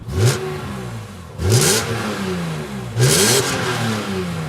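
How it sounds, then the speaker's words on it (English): A BMW E46 M3 CS straight-six engine revs three times in quick blips, each rising and falling with a raspy, crackly exhaust note, loud and close. "that straight six sound with that raspy exhaust"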